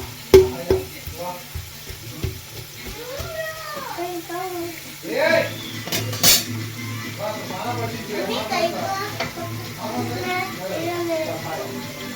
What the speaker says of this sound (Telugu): ఆయిల్లోనే ఆనియన్స్ బ్రౌన్ కలర్ వచ్చేలాగా చేసుకోవాలి.